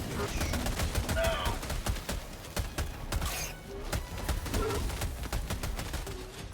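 Submachine gun firing concussive rounds in the shooter Helldivers 2, a rapid string of sharp shots in bursts across the whole stretch, with a brief lull in the middle over low background noise.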